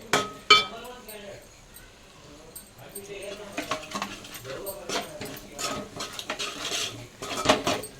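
Coriander powder being stirred into a fish curry in a pan, with repeated metal clinks and scrapes of a spoon against the cookware, a couple of sharper knocks early on, then steady clattering stirring.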